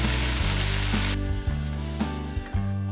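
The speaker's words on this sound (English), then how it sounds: "Simply use a spatula to flip the pancakes" Thin French crêpe batter sizzling steadily in a hot pan, with soft scrapes and thumps of a spatula lifting and flipping it, the frying hiss dropping briefly after the turn.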